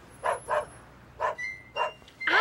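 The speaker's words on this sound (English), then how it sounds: "I hear a dog barking." A dog barks in a quick series of short, sharp barks, close and clear, with brief gaps between bursts and a higher yelp at the end; no one talks over it.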